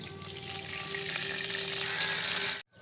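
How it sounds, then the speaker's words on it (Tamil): Sesame oil poured into a pan for chicken kaatu varuval, a steady bright sizzle and hiss, close and continuous, ending abruptly. "நல்லெண்ணெய் ஊற்றிக்கலாம்."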